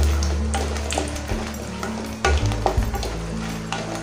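Dried red chillies frying in hot oil for lentil rasam, a close steady sizzle with a low rumble and intermittent spatula scrapes and taps against the pan.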